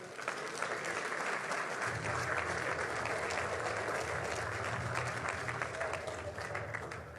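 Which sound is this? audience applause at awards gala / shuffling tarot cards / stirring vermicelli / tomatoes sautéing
audience applause at awards gala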